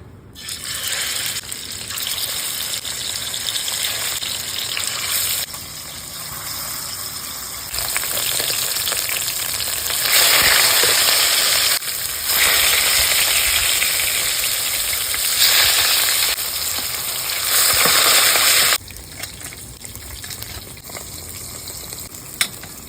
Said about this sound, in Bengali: আমি আজকে ভেজে রান্না করছি